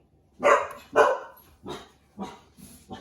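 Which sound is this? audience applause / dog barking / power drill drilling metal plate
dog barking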